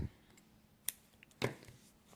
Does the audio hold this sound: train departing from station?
no